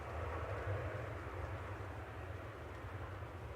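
An Airbus A320 arriving at Manchester Airport from London Heathrow, a steady low jet-engine rumble with a broad roar, fairly loud and sustained, with wind in the background.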